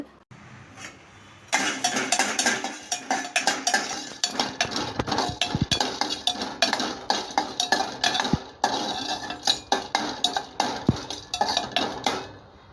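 Whole cardamom pods are dry-roasted in a pan while a spoon stirs them, making quick rhythmic scrapes and light rattling clinks that start abruptly and carry on close and loud, with no talking.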